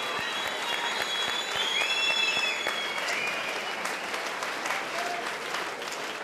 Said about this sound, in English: a big round of applause to both fighters for a fantastic MMA bout